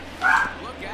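Gizmo, a pet dog, gives one sharp bark followed by a fainter yip, heard against a low steady hum in a room where a baseball video game is being played.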